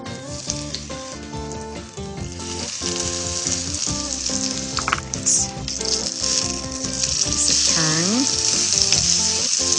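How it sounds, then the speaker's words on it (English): Panisse crisps in extra virgin olive oil in a pan, a continuous bright sizzle that grows slightly toward the end, heard close beneath loud background music. "So with some extra virgin olive oil in my pan, just crisp up the outside until it's golden."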